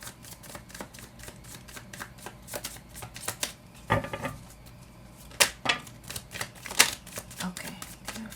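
Tarot cards are handled and shuffled, with soft papery riffles, flicks and light taps scattered irregularly at close range, a few sharper slaps standing out, and faint talk in the background.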